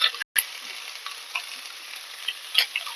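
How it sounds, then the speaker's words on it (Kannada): Chopped onions frying in oil in a pan, fried with green chillies for a spicy onion chutney, give a steady close sizzle with faint stirring scrapes and a brief gap near the start. "ಅದ್ರ ಜೊತೆಗೆ ನಾನು ಹೆಚ್ಚಿಟ್ಕೊಂಡಿರೋ ಅಂತ ಈರುಳ್ಳಿ ಫ್ರೈ ಮಾಡ್ಕೊಂತೀನಿ."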